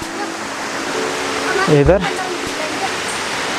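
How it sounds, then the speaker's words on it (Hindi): A mountain waterfall on the Brahmagiri trek near Trimbakeshwar gives a steady broadband rush of falling water, with a person briefly speaking over it. "ये यहाँ का एक झरना है, ऐसे बहुत सारे झरने हैं"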